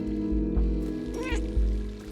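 A cat meows in the video game Stray, a short, faint call rising briefly over steady ambient game sound with low thumps.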